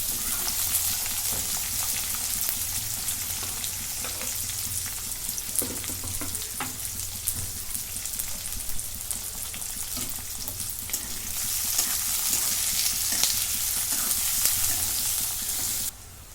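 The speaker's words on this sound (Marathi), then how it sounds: "कांदा चांगला भाजून झालेला आहे" Onion and curry leaves fry in a pan with a loud, continuous close-up sizzle, crackling steadily throughout with occasional stirring.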